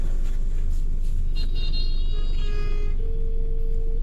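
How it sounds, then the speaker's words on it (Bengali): A car sits stuck in a traffic jam at Elenga, Bangladesh, on a cloudy day. A steady low engine and road rumble fills the cabin, and faint tonal horn-like notes sound briefly in the middle. "আমরা এখন এলেঙ্গায় ট্রাফিক জ্যামে পড়েছি"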